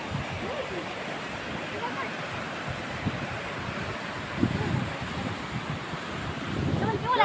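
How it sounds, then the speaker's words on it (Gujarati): Rain-fed water spills over a dam in a continuous loud rush mixed with gusts of wind buffeting the microphone, with a few faint voices in the background. "ચાર ડેમ છે આ પાણી ઓવરફ્લો થાય છે"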